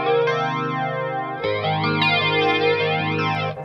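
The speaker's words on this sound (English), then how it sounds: "if we have a listen to the Electric Mistress" Electric guitar chords run through an Electric Mistress flanger pedal, a sustained, swirling sweep that rises and falls across the tone, changing chord once midway, played alone and fairly loud.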